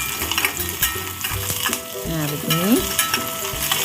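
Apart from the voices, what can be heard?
sautéing spice paste for garang asem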